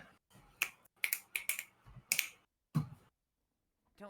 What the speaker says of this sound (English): Don't snap your fingers at me.